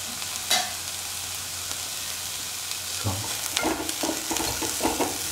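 Ginger fries in a pan with a soft, steady sizzle, broken by brief clatters and stirring scrapes that grow busier toward the end.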